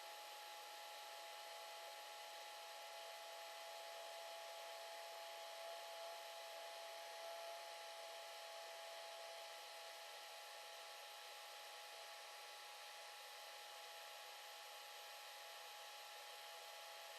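A hair dryer blows steadily on watercolor paint, a continuous even hiss-roar that stays level and close for the whole stretch with no other sounds.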